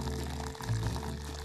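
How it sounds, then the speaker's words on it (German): Hot water from an electric kettle pours into a cup of Samyang Buldak 2x spicy instant noodles, a steady close splashing stream that swells slightly near the end. "Ihr könnt gemütlich mit dem Wasserkocher, das habe ich jetzt hier schon mal vorbereitet, das Wasser hier reinfüllen bis zur Markierung."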